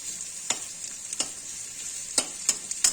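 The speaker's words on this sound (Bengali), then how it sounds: "পেঁয়াজগুলো উপর নিচ করে দিচ্ছি যেন উপরের গুলো নিচে চলে যায়" Onions fry with a soft, steady sizzle in a pan, broken by a few sharp scrapes and taps of the spoon turning them over.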